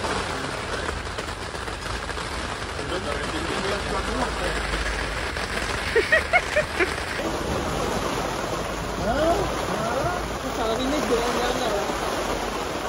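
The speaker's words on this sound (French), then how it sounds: "Ah, il pleut, ça va laver ma voiture." Rain falling outdoors during a summer evening with a storm nearby, a steady broadband hiss of drops throughout, with people talking over it.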